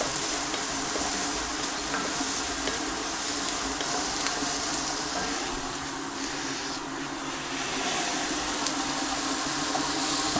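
Chopped root vegetables cook in a pan for a quick lasagne soup, producing a steady, dense sizzle with a low rumbling hiss underneath and faint stirring scrapes, fairly loud and unbroken.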